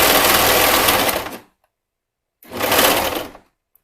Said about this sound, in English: your sewing machine will naturally help you ease that in